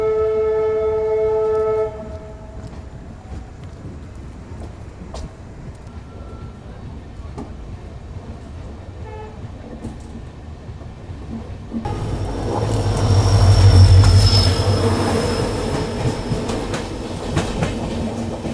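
High Court Express passenger train rolling on rails from Jaipur toward Jodhpur after departing a station, a loud steady rumble and rhythmic clatter that swells midway, with a fading horn tone at the start.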